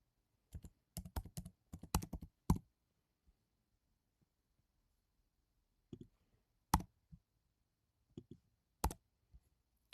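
A computer keyboard is typed on in quick clusters of close, crisp key clicks, with a dense burst at first and then scattered single taps amid near silence.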